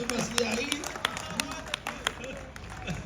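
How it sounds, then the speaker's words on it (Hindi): Scattered hand claps from an audience at a Hindi poetry gathering in Ghaziabad, a few sharp separate claps rather than full applause, set against a voice. "तालियां बजा यार"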